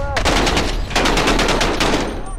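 Rapid bursts of gunfire in Call of Duty: Modern Warfare, including 12-gauge shotgun fire, with sharp repeated shots, a brief pause, then another sustained volley, loud and close.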